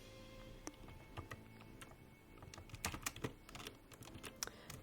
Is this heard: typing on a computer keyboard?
yes